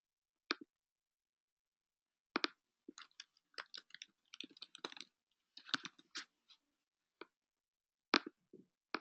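Computer mouse clicks in short sharp bursts while a real estate deal tool is used on screen: single clicks, then rapid clusters of clicks, close and clear with no talking.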